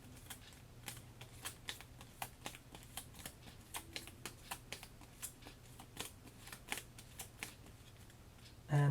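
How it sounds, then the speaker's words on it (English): Three playing cards are shuffled during a tabletop board game, giving a quiet series of crisp, evenly spaced flicks and taps, close and alone. "Now I gotta shuffle these 3 cards."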